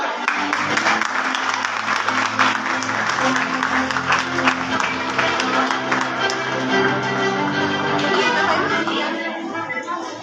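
Church audience applauding to welcome a speaker to the front, a dense, steady wash of clapping that fills the whole stretch, with voices and crowd murmur mixed in beneath.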